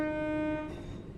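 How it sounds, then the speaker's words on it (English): A train passes in the video game Train Sim World, opening with a steady horn-like tone that cuts off into a low, faint rumble. "Look, there's a train over there going the other way."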